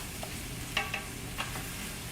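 Bolognese sauce sizzling in a pan, a quiet steady frying hiss with a few faint clicks of stirring, close but soft, with no voices.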